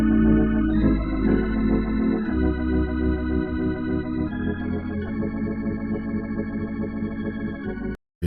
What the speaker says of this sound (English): Y'all want an organ sound that sounds like this?